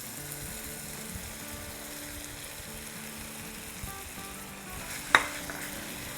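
Minced chicken thigh sizzles with tomatoes in a hot pan, a steady soft frying hiss throughout, broken near the end by one sharp clink of a utensil against the pan.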